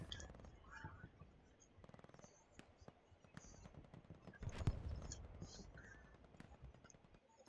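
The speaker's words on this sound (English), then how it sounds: "I just keep hearing this machine guns go off and just start to mow people down constantly" Machine gun fire in the video game Hell Let Loose, rapid bursts of distant gunfire with heavier shots mixed in, under low commentary voices.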